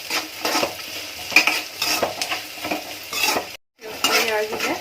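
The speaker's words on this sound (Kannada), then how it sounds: "ಒಂದೆರಡು ಒಣಮೆಣಸಿನ್ಕಾಯಿ ಹಾಕೊಳ್ಳೋಣ. ಅಷ್ಟು ಚೆನ್ನಾಗಿ ಫ್ರೈ ಮಾಡ್ಕೊಳ್ಳೋಣ." A couple of dry red chillies frying in a pan for a ridge gourd curry, a light sizzle under repeated scraping and stirring of a metal spoon against the pan, close and busy, with a brief silent gap near the end.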